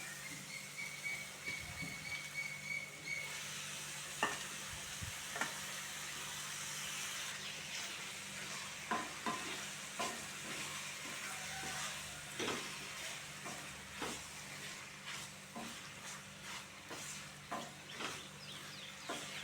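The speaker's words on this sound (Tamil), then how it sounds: "இப்போ கழுவி வச்சுருக்க கணவாயை சேர்த்துக்கிறேன்" Squid stir-fries in a pan with onion, tomato, turmeric and chili powder, giving a steady sizzle broken by repeated scrapes and knocks of a spoon against the pan, close up and with no speech.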